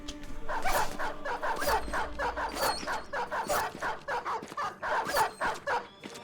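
War dogs in the video game Deserters bark and yip in a rapid, repeated burst of sharp, loud yelps, one after another over game noise.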